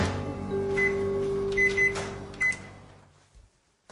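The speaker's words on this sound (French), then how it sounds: "Dans sa cuisine, le professeur Magda Havas fait chauffer une simple tasse d'eau." A microwave oven heats a single cup of water in a home kitchen, giving a steady close hum with a few short high beeps before it falls quiet near the end.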